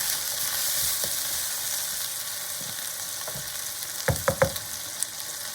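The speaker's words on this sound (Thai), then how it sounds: "จากนั้นเราก็ผัดให้เข้ากันเลยค่ะ" Crispy pork stir-fried with sugar in a hot pan gives a steady, close sizzle and crackle, then a quick cluster of sharp spatula clacks against the pan near the end, with no voices.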